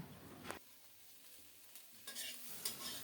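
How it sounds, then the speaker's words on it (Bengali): Chopped green beans fry quietly with mustard seeds in a pan with a gentle sizzle, broken by a few scraping stirs and light clinks. "এদিকে সরিষা ফোড়নে দিয়ে শিম ভাজা করছি"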